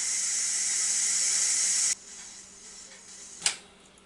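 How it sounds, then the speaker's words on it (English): Steam vents loudly from a Ninja Foodi Deluxe pressure cooker in a steady close hiss, then cuts off abruptly, leaving a faint quiet room broken by one brief sharp clack. "now the steam's about finished coming out of it"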